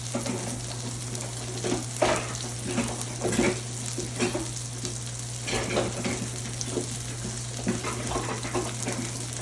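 A New York strip steak sears in a cast iron pan, a steady close sizzle broken by repeated rough scrapes of a wooden spatula across the iron, alone without talk.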